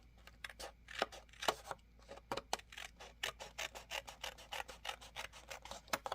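Small scissors cut paper dividers and tabs in a string of quick, close, crisp snips, some rapid and some spaced out, with no voices.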